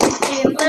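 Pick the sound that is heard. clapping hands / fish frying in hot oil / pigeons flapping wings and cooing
clapping hands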